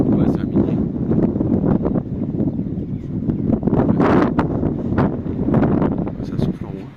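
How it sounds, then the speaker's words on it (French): Strong wind buffets a microphone outdoors at a mining area with slag heaps, a constant loud rumble that gusts harder at moments, with a voice talking underneath. "excusez-moi encore hein, avec le vent"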